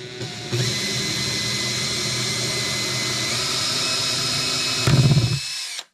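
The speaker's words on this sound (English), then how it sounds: "I'm gonna come in here and I'm gonna drill me a pilot hole" A power drill whines steadily at high speed for several seconds, loud and close, boring a pilot hole in a 1970s Martin D-28 guitar, then bogs down briefly before stopping.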